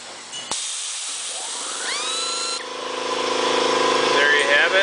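A Cardinal Components 6703 rivnut tool sets a half-inch stainless steel rivnut with a sharp click, then a rising motor whine that settles into a steady, close whirr as the tool spins counterclockwise.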